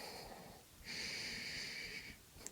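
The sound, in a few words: deep yoga breathing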